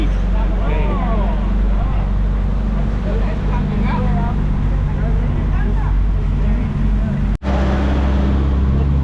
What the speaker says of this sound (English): Yeah, right here, riding a Jeep.